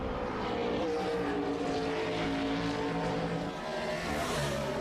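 A NASCAR Nextel Cup race car at Watkins Glen coming off the final turn, a steady engine drone at moderate distance, continuous and fairly even in level, with no voices over it.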